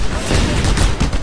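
A rocket launcher firing in Just Cause 2, a dense, loud rumbling blast with layered booms that fill the whole moment.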